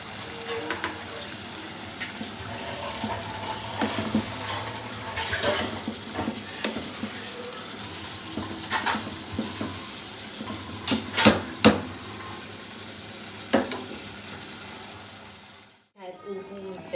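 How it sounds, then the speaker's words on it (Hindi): Hot water poured into palak keema in a cooking pot, sizzling and bubbling with stirring and utensil clatter, followed by an abrupt cut near the end. "मैंने इसमें 1 कप गर्म पानी डाल दिया है"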